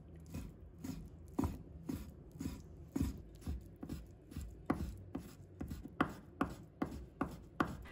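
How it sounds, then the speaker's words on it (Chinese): A knife slices chicken breast into thin pieces and then small chunks on a cutting board, giving a steady run of close, soft chopping thuds at an even rhythm. "把它切成薄片， 再把它切成小块。"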